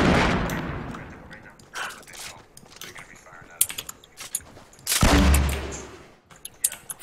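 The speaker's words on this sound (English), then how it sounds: "they're gonna be firing at us" Bursts of automatic gunfire in the video game Fortnite crackle in short volleys, with a heavy explosion-like blast near the end, mixed with clicking keyboard typing and occasional talk.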